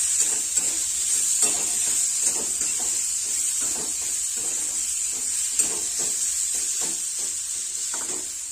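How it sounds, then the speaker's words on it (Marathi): A pan of boiled potato curry pieces is mixed with a spoon, giving soft irregular scraping stirs over a steady sizzling hiss that continues throughout at close range. "उकडलेले बटाटे ज्या अशा पद्धतीने फोडी तयार करून घेतलेल्या आहेत व्यवस्थित आपल्याला मिक्स करून घ्यायचं"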